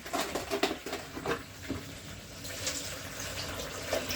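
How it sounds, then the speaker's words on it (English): Tap water runs steadily into a cooking pan in a home kitchen, a close, continuous splashing patter with no talk. "Go ahead and get some water in"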